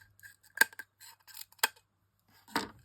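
Scissors snip through card in a few short, crisp cuts, sharp and close, separated by quiet pauses, with one longer final snip.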